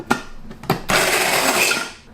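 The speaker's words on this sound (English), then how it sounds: "I'm going to add into a grinder and grind bit by bit" Electric grinder coarsely grinding roasted nuts: a couple of short pulses, then a loud sustained whirring grind that rattles for about a second before easing off.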